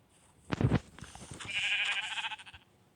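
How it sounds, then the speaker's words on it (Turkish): A Minecraft sheep gives a single short, close bleat, followed by a softer wavering game sound. "orada bir tane koyun var"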